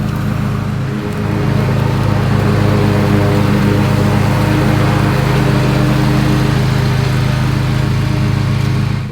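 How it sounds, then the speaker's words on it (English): A ride-on lawn mower runs steadily and loudly up close while mowing lawns, its low engine drone constant and unbroken, with no voices over it. "he's just jumped on the lawnmower and he's just going for it"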